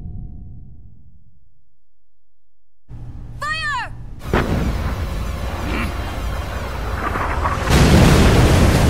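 Artillery fire in the Metal Gear Solid IV video game opens with a quiet stretch, then a whistling sweep, followed by heavy booming blasts and sustained rumbling explosions that grow louder toward the end.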